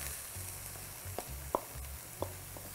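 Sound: meat and chopped onions frying in a pan for lasagna

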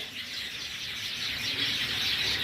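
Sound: white Java sparrows chirping at a breeding farm

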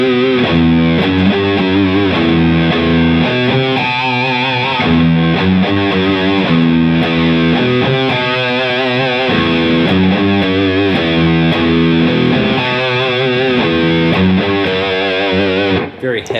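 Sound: Electric guitar riff with heavy amp distortion

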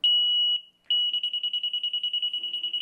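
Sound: laser detector beeping tone while aligning laser line

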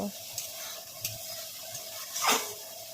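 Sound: spice masala being sautéed in a pan

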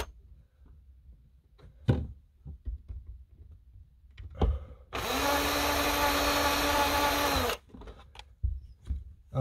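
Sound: electric drill drilling

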